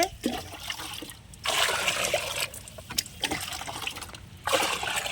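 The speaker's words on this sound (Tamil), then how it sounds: "தண்ணி ஊற்றி 10 லிட்டராக டைல்யூட் பண்ணிக்கிட்டோம்" Water pouring into a 10-litre bucket in several bursts, splashing and trickling with brief pauses between pours.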